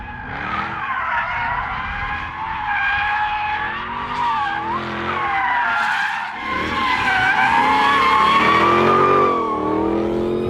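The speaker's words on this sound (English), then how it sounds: "it will come around and it will go into oversteer quite nicely" A Jaguar F-Type P450 R-Dynamic sliding into oversteer on a race track, its tires squealing loudly and steadily over a droning, revving engine, close up and sustained for about ten seconds with no talking.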